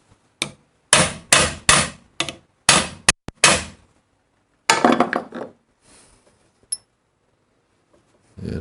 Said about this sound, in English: we have here a punch, and we have here a hammer.